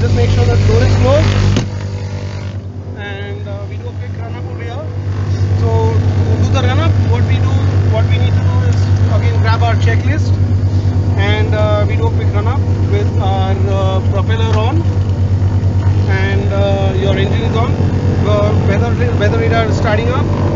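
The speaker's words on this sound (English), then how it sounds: "we start up with the engine, and we do a run up" A Partenavia P68C light twin aircraft engine starts and runs up. A loud, steady low drone settles in, dips briefly, then swells and holds strong, while a person talks over it close by.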